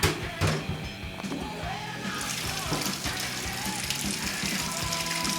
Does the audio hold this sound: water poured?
yes